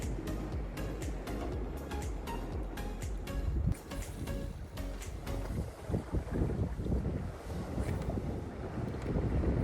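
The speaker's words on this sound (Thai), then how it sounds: "เพราะว่าวันนี้ลมมันแรงมาก" Strong wind buffets the microphone at Promthep Cape in Phuket, a steady loud rumbling roar with gusty bursts and some clicking handling noise throughout, no voices.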